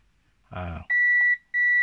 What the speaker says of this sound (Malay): Dah boleh dengar buzzer tu?